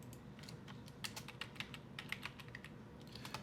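Quiet typing on a computer keyboard while a music session is set up for mixing, with a loose run of soft, closely spaced key clicks and nobody talking.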